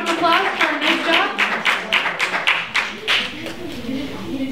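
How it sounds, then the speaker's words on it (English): Scattered audience clapping follows a performer at a violin recital, a loose series of distinct claps from a small crowd with a voice speaking over them. "a round of applause for a nice job"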